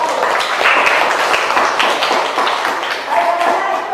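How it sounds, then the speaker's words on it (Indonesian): A classroom claps for group 1 after its presentation: dense, continuous applause from many hands keeps a steady loudness for about four seconds. "Berikan tepuk tangan kepada kelompok 1."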